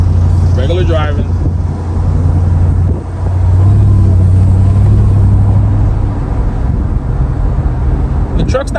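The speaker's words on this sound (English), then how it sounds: "We're cruising right now, 28 miles an hour, just smooth, regular driving." A Ram TRX pickup fitted with a JMB Performance intake cruises smoothly at about 28 mph, its low engine rumble and road drone steady and close from inside the cab, with a brief voice near the start.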